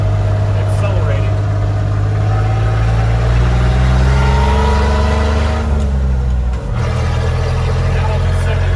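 A Willys Jeep CJ5 swapped to a Chevy 4.3L engine drones steadily and loudly while climbing a hill, with a brief dip as it shifts gears near the end.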